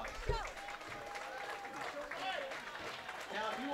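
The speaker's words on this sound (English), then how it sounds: "Let's give them all another round of applause." Applause from a gathered crowd at a youth bowling championship, a soft, continuous patter of clapping heard at a distance, with voices faintly mixed in.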